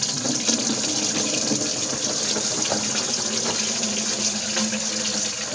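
Fermented coffee rum wash, finished at 1.001 after 14 days, pours steadily into a still boiler, a continuous close splashing gush of liquid with no talk.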